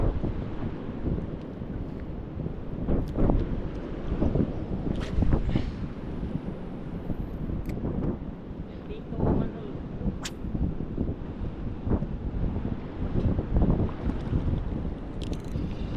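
Strong typhoon wind roars steadily across the microphone at sea, with big churning waves and water rushing throughout, loud and continuous.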